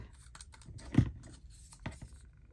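Scissors snip a strip of decorative paper trim for a journal page, two quiet, close cuts about a second apart with faint paper rustle between them, no talking.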